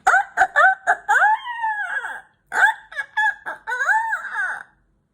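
A voice mimics a rooster's crow in two bursts, starting with short choppy syllables and then drawing out into a long wavering call, close and fairly loud.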